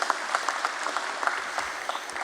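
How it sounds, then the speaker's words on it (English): Audience at a stock exchange listing ceremony gives a steady round of applause, many hands clapping evenly in a hall, moderately loud with no voices standing out. "first a round of applause to all of you for making it to this event"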